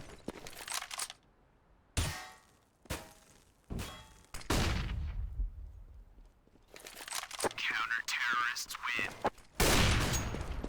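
Gunfire rings out in a Counter-Strike match: sharp bursts and single shots, some loud and near and some faint, scattered across a tense round, with a commentator speaking under the shots.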